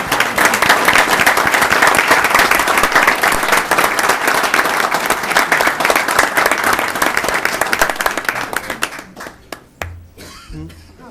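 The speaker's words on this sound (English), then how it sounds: "I'd like to give them a final round of applause." An audience at a city council meeting in Bonita Springs applauds loudly and continuously for about nine seconds, then the clapping thins out to a few scattered claps and a quieter room.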